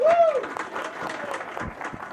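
A podcast audience breaks into brief applause, the clapping moderate and fading quickly, with a voice briefly heard at the start.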